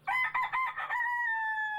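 A rooster crows once up close on a farm, a loud, raspy call of choppy pulses that stretches into a long held final note.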